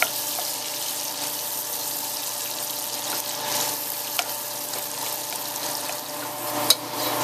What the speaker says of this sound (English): and after that we'll add in our onions.